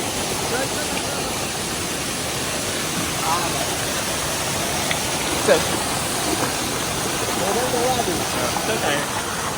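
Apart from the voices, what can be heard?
waterfall in Konkan, Ratnagiri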